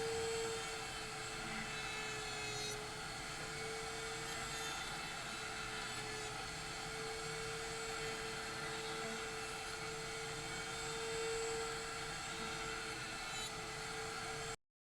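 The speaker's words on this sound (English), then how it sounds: "I'm going to use a roundover bit, and I'm just going to try and relieve the edges." Router fitted with a roundover bit cutting the edges of wine barrel staves, giving a steady high-pitched whine that holds for about fifteen seconds without a break before cutting off abruptly.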